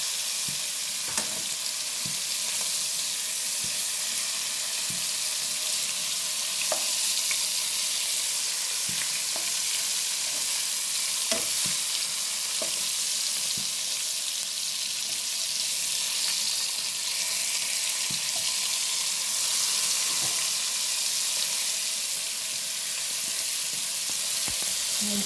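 Tiger prawns frying in a pan of hot oil, a continuous close sizzle with scattered sharp crackles and pops throughout, no voices.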